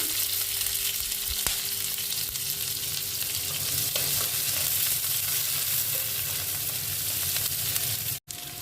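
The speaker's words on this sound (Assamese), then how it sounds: "এতিয়া ইয়াত পিঁয়াজখিনি আৰু জলকীয়াখিনি দি দিম, অকণমান ভাজি ল'ম।" Onions and chillies sizzle steadily in hot oil, a close, continuous crackling hiss, with a brief clatter right at the end.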